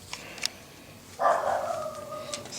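A dog gives one drawn-out bark or whining yip nearby in a driveway during a 1986 Toyota Camry timing belt job, heard alone over faint background noise.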